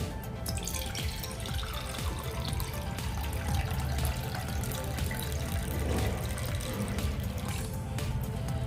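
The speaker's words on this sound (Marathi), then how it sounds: "आता यामध्ये मी पाणी घालून घेते" Water being poured into a pressure cooker holding lentils, a steady close splashing and gurgling stream that runs almost unbroken throughout, with no talk.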